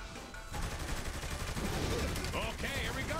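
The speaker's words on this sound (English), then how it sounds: "Ow, I'm being shot at." Sustained gunfire in Saints Row The Third, rapid overlapping shots forming a dense, loud fusillade mixed with other game effects that continues for about three seconds after a brief quieter lead-in.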